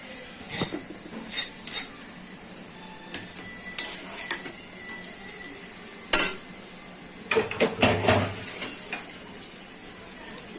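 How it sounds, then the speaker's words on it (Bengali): Chow mein noodles tipped into a pan of fried vegetables in a home kitchen, heard as a series of sharp metallic clinks and scrapes of utensil against pan, irregular bursts with quiet gaps, close and fairly loud, no talking. "আমার সবজিটা ভাজা হয়ে গেছে এবার আমি চাউমিনটা ঢেলে দেব"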